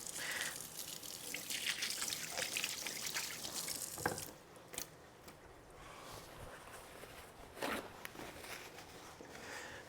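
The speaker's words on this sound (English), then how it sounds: "we're going to start with our washing our hands," Hands being washed under a running tap: a soft, steady stream of water with splashing and dripping, fairly quiet and close, with a few louder splashes and no talking.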